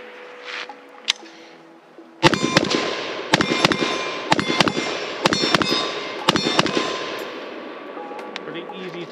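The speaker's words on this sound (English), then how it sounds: "All right, so we've done some shooting." A Last Chance Beryl rifle fires a string of sharp, loud outdoor shots at an irregular pace, about ten reports with ringing tails, while someone talks faintly before the shooting starts.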